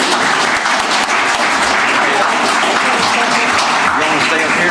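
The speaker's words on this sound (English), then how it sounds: "we'll give them one last round of applause." A room full of people at a county commission meeting gives a loud, sustained round of applause for award recipients, dense clapping continuing throughout.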